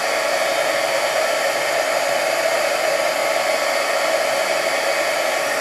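A heat tool blows hot air over a fresh layer of tile paint, a loud, steady, close whooshing roar that holds unchanged throughout with no talking.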